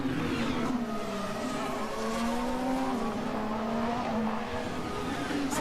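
Formula 1 cars at the 2022 Emilia Romagna Grand Prix at Imola, powering through the chicane with a steady, loud engine whine that shifts in pitch as they pass, continuous throughout.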